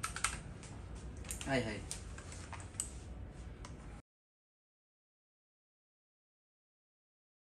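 Rapid typing on a Rapoo waterproof keyboard fitted with blue keys, a busy run of close, dense key clicks lasting about four seconds, with a voice briefly calling out over it before the sound cuts off.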